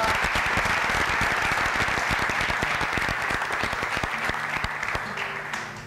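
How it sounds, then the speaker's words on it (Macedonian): Applause for the goal scorers of football club FK Kozuf Gevgelija, a dense burst of clapping from a gathered crowd that holds steady and then starts to thin and fade toward the end. "5 гола, аплауз за вас, аплауз."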